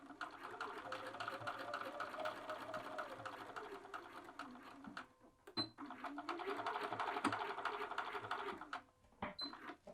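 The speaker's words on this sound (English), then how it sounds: "you're just going to sew through the cuff and the shirt to anchor them together" A domestic sewing machine stitches through a shirt cuff and sleeve to join them, with back-tacking, a steady close mechanical whir that stops briefly near the middle and again just before the end.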